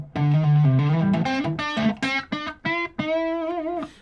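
A processed guitar or synth phrase with added reverb and delay rings out in a short melodic run of distinct notes, each tail smeared and echoing before the next, with no speech.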